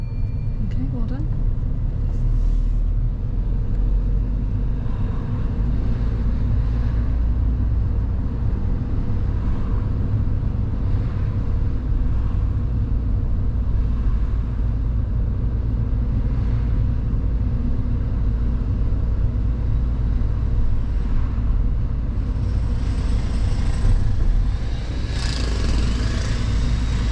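A car drives along during a driving lesson, its engine and road noise making a continuous low rumble from inside the cabin while an instructor and learner talk.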